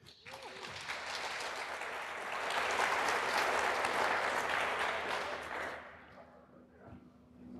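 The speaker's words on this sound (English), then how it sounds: "please welcome with a very warm round of applause, Dan and Laura" Conference audience breaks into sustained applause for a car hacking talk, a dense wash of clapping that swells midway and then fades out, with a faint hum underneath.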